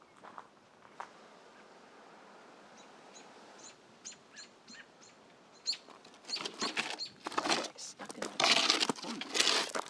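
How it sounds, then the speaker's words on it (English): Thin, high chirps come in short bursts, growing busier and louder toward the end, mixed with rustling and handling noises close by. "we're gonna check on the baby birds"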